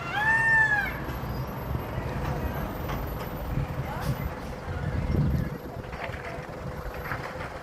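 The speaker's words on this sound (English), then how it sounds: "Mama cat." A mother cat meows at the start, a rising-falling call in the first second, outdoors amid steady background noise and rumble, with people talking nearby.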